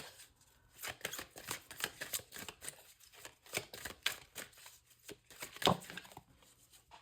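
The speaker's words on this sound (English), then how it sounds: "I'm grabbing another Oracle card." Oracle cards handled and drawn from a deck, with quick papery flicks and shuffling rustles coming in irregular bursts, close but fairly quiet.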